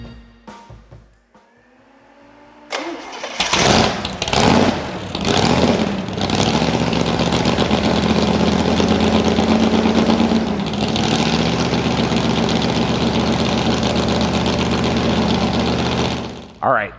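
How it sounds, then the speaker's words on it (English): A 1971 Pontiac 366 cubic inch Ram Air V V8 fires up after a few seconds of quiet and settles into a loud, steady idle with a brief rev, running close up and alone until it shuts off near the end. "How about a 1971 366 cubic inch Pontiac Ram Air 5?"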